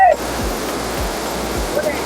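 Rushing water at Suruli falls roars as a steady, broadband wash throughout, with a few low thuds and a brief voice at the very start.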